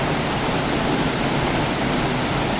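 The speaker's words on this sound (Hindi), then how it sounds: "वो जो है जोरदार रेनफॉल हो रहा है।" Heavy monsoon rain during the first downpour of the season in Mumbai, heard as a loud, steady, dense broadband hiss that continues without a break.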